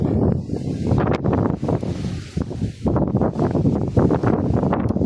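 Wind gusts steadily through a vegetable garden, making a continuous rushing, rustling roar that rises and dips in strength, with buffeting against the microphone and no voices.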